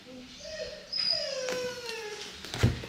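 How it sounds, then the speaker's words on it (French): A pet female dog whimpers and cries nearby in thin, wavering whines with rising and falling pitch, ending in a short sharp yip, heard indoors with faint background noise. "j'ai ma chienne qui pleure"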